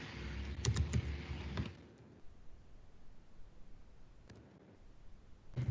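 Quick bursts of typing on a computer keyboard while entering an approval comment, with a few clustered key clicks near the start and fainter taps later against a quiet background.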